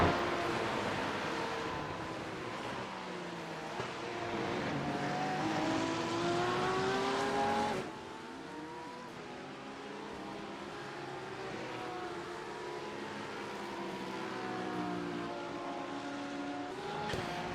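Race cars at Laguna Seca circuit during a pit stop phase, engines revving and shifting with rising and falling pitch, a loud car close by then another sweeping past more distantly, with faint tire noise and no talk.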